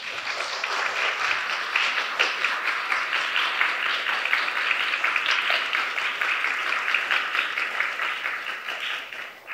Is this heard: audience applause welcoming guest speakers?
yes